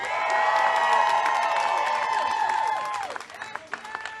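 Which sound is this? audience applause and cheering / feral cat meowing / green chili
audience applause and cheering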